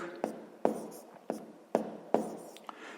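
A pen writes numbers on paper while working a sixth-grade math exercise. About six short, crisp scratching strokes come in an irregular rhythm, close and fairly quiet, with no talk over them.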